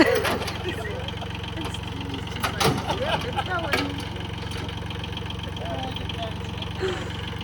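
A tractor engine idles steadily at a Colorado junkyard, a low continuous rumble under someone talking, with some clanks partway through.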